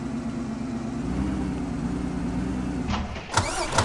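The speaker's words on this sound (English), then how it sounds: "let's pull the truck up here again" A truck engine in Farming Simulator 15 runs at a steady low hum, with a few brief mechanical clunks near the end and no talking.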